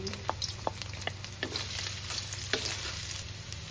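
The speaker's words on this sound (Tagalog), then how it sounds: "Magigisa na tayo ng... Unahin natin yung luya. Grabe mga. Next, bawang." Ginger and garlic sauté in hot oil in a pan, with a steady close sizzle and scattered sharp clicks and scrapes from stirring.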